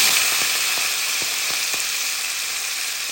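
Freshly rinsed spinach hitting a hot pan for a quiche Florentine, producing a loud, steady, hissing sizzle that fills the whole moment without any talking.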